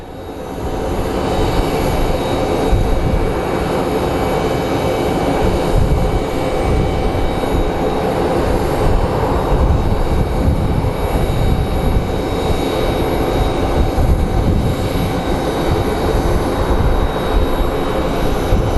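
Steady, continuous roar of a WestJet airliner's jet engines at Phoenix Sky Harbor airport, loud and broadband, holding at an even level throughout with no pauses.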